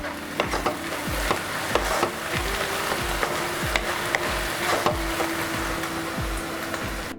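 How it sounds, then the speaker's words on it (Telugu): Chili powder stirred into egg bhurji in a pan, a rhythmic series of spatula scrapes and taps roughly twice a second over a steady frying sizzle. "కారం వేసుకుని కలుపుకుందాం."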